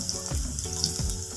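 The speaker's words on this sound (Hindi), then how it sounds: "यहाँ पे हम इसको मीडियम फ्लेम पे फ्राई कर लेंगे" Coriander leaf pakoras fry in hot oil over a medium flame, a steady close sizzle with soft bubbling and a couple of light splashes as batter drops in.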